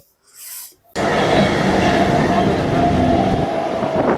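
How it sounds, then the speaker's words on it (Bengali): A local train rolls into a station in Kolkata on a winter morning with a loud, steady rumble and rattle that starts abruptly and fills the scene, preceded by a brief faint hiss. "বলতে বলতেই চলে এলো আমাদের ট্রেন"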